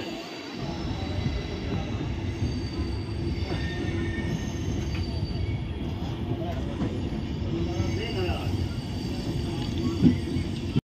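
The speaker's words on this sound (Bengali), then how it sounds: "13 মিনিট ট্রেন ডিলে হয়ে মির্জাপুর স্টেশনে চলে এসেছে" A train pulling into Mirzapur station on the route to Prayagraj, its wheels squealing over a steady rolling rumble that fills the whole stretch, with a brief louder screech near the end.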